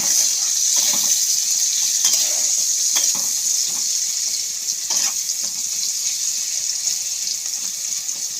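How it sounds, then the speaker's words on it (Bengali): Chopped onions fry in hot oil in a wok, giving a steady, close hiss and sizzle with faint crackles scattered throughout, and no talking. "পেঁয়াজ কুচিটা আমি লাল লাল করে ভেজে নেব"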